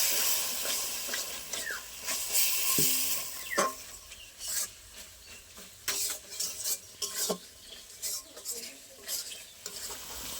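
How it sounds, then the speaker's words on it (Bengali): Mutton liver masala is stir-fried in a pan, a steady sizzle running under repeated scraping and clinking strokes of a spoon against the metal, close and moderately loud with no talking. "এবার আমি সব একসাথে একটু ভালো করে কষিয়ে নেব।"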